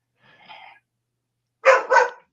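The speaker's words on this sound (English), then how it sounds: "dog barking" A dog gives a faint, distant bark, then two loud, close barks in quick succession, with silence between them.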